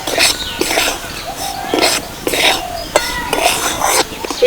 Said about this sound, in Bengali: এবার সুজিটাকে বেশ লাল লাল করে ভেজে নেব